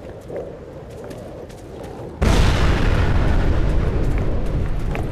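A loud C4 explosion from the video game Sniper Ghost Warrior 2 erupts suddenly as a single heavy boom. A dense, sustained roar of debris and rumble follows, lasting to the end after a quieter lead-in.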